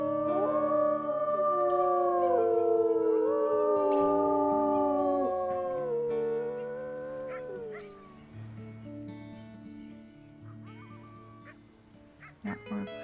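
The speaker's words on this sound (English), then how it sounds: "And we'll do lots of howling here to get this hex up." Several wolves howl together in a video game pack simulation, long rising and falling overlapping howls carrying loudly over a low ambient music bed, then thinning out toward the end.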